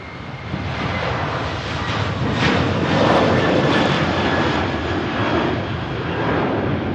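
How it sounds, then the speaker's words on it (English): An Aer Lingus Airbus A330 jet roars down the runway on its takeoff roll at Manchester Airport, a loud, steady, broadband engine rumble that swells slightly and holds for the whole stretch. "Aer Lingus, A330 on the roll."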